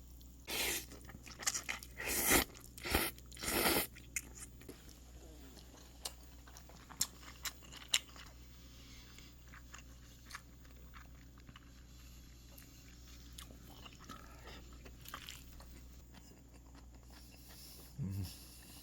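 Someone eats mixed rice with wet chewing and crunching. A few loud bursts come early, then quieter, irregular chewing continues close to the mic.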